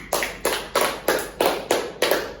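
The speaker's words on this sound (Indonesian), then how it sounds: "berikan aplaus dulu untuk Mbak Visi" Seven evenly spaced claps from a classroom applause for a student, each a sharp broadband hit in a steady rhythm, close and fairly loud with no talking over them.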